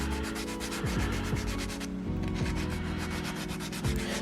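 A nail file roughens the surface of a fingernail before gel nails are applied, in quick, rhythmic back-and-forth scratching strokes, close and continuous, with a low electric hum beneath.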